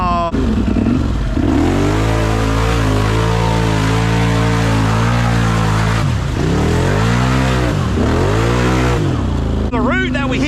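A heavily built Can-Am Outlander ATV engine revs hard and continuously while churning through mud, its loud, close engine note rising and falling as the throttle opens and closes, with a brief dip when the throttle is released.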